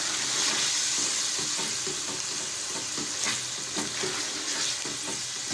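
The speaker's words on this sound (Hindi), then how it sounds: "और उसके बाद दोबारा इसको भूनना शुरू करूँगा।" Minced meat keema with yogurt fries in a pan, a constant dense sizzle with scraping stir strokes running steadily throughout, no voices.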